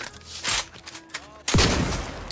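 Gunfire in The Outer Worlds 2, sharp shots around the middle and then a heavy blast near the end, with some in-game background noise and no clear talk.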